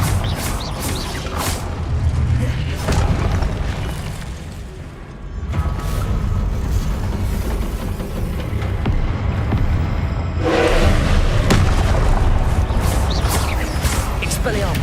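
Repeated Confringo blasting-spell explosions from the Hogwarts Legacy video game, loud booming bursts recurring across the stretch amid dense combat effects and a spoken voice.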